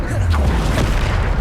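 The Depulso spell goes off in Hogwarts Legacy, a loud, deep magical boom and whoosh with rumbling low end, close and filling the short moment, with game effects layered over it.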